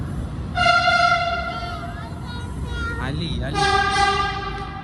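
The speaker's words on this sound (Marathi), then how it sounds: "मेट्रो येते आता." A metro train pulls into a station and sounds a loud, sustained two-tone horn twice, with a brief break between blasts, over steady rumbling rail noise.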